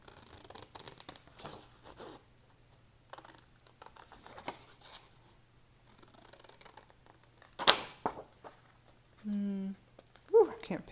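Scissors snipping paper cutouts for a journal, a quiet, scattered run of short cuts and rustles at close range, with a sharper crinkle of metallic paper and a brief voice near the end.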